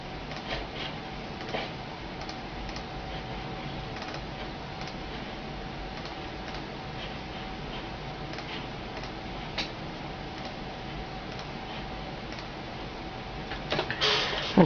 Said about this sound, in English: I'm just going to show you what it looks like when it's printing these out